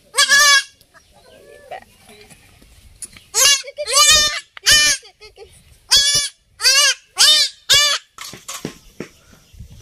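A baby male goat being castrated by a vet bleats loudly and close by, with about ten wavering cries in uneven bursts separated by short pauses.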